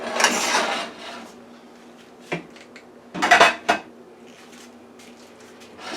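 Pots, pans and cutlery clank in a home kitchen while shepherd's pie with beef, mixed vegetables and sweet potatoes is assembled; a long scraping clatter opens, then sharp clinks and a cluster of bangs follow, with quiet gaps between.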